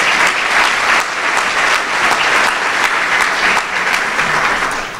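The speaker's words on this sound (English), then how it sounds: "Let's give that team a round of applause." Audience at a school event in Camden applauding a team, loud continuous clapping from a sizable crowd, steady throughout and easing off slightly at the very end, with no one speaking over it.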